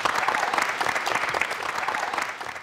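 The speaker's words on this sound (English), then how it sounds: "Give him a round of applause." A crowd's applause fills the room in a dense, steady wash of clapping that holds at an even level throughout, with no voices standing out.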